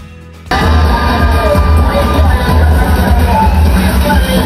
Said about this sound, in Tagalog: Hiyawan naman ang mga tao na naroon sa galing niyang sumayaw.